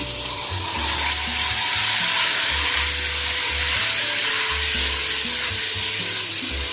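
Paya masala with whisked yogurt frying in a pan for beef paya, a loud, steady sizzle throughout with no pause and a low rumble underneath.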